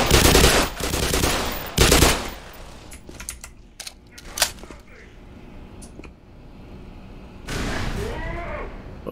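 Loud shotgun blasts in Black Mesa ring out in several sharp bursts, with a pair of strong reports near the start and more scattered shots and echoing impacts following.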